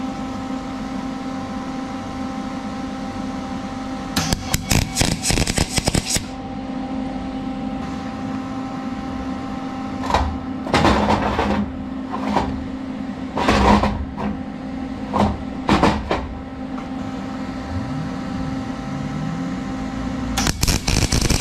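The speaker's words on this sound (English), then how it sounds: "I like to put a tack weld on top of the pin and also on the bottom of the pin" A welder tacks a pin on a transmission's rear planetary during a 200-4R rebuild. Several short bursts of crackling arc noise stand out over a constant hum of shop equipment, with no talking.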